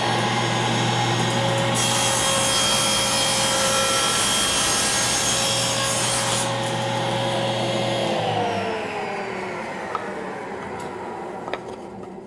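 A saw cuts a wood box piece held against a stop block: a loud, sustained whine and rasp through the wood with a dust-collector roar behind it, winding down near the end, followed by a couple of light knocks.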